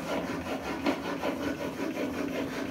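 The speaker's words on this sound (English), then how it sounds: "Or swap your stone, go finer. 6000 grit," Steel blade stroked across a fine 6000 grit sharpening stone, a steady close-up scraping rub with gentle repeated strokes and no speech.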